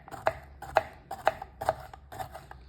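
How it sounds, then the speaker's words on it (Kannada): Bitter gourd being chopped into small pieces on a board, five distinct knife strikes at a steady rhythm, close and clear with no talking. "ಈ ಥರ ಸಣ್ಣ ಕಟ್ ಮಾಡ್ಕೊಳ್ಳಿ ಫಸ್ಟು"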